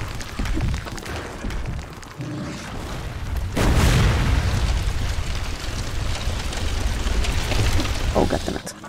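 A bomb explodes in the Legend of Grimrock 2 video game with a deep, loud boom. A rumbling roar follows and lingers over the game's ambient noise.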